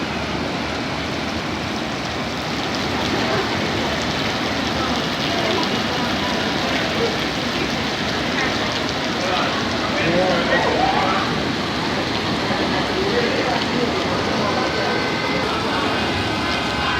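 Heavy rain pours down in Montego Bay, a dense continuous hiss of drops drumming on surfaces for the full length, loud and close, with voices faintly audible underneath.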